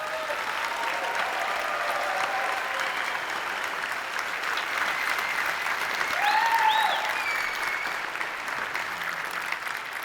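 A large convention audience at EVE Fanfest 2012 applauds steadily for CCP employees, a broad even wash of clapping with a brief swell of cheering partway through.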